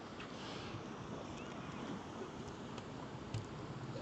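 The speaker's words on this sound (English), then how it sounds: "It's a little windy out here" Wind blows across a microphone outdoors, a faint, steady low rumble and hiss with slight gusts and no clear speech.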